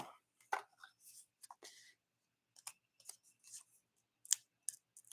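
Paper is cut with scissors in a papercraft project, making a series of crisp, close snips and slicing strokes in short irregular bursts with quiet gaps between them.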